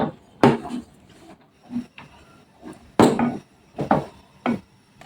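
Semai vermicelli being stirred into milk in a pot for Eid-style nawabi semai, heard as a series of close, irregular scraping and knocking strokes of a utensil against the pot, with quiet gaps between them.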